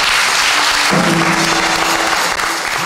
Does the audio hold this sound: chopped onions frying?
no